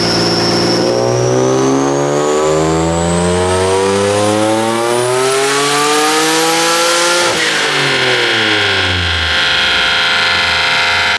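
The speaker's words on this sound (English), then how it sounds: "On that last dyno pull, we made 505 horsepower at 14 PSI." A turbocharged Nissan 350Z runs a dyno pull at 14 psi, its engine note climbing steadily in a long loud rev to about seven seconds, then dropping back as the throttle closes, with no talking.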